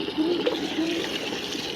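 Water gushes and splashes over a Labrador during a bath, a steady wet rush with a brief tonal squeak, close and fairly loud.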